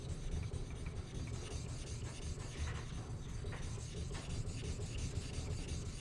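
A kitchen knife blade rubbed back and forth on a 3000-grit artificial whetstone in a sharpening-stone factory, giving a steady, close gritty rasping that continues without a break.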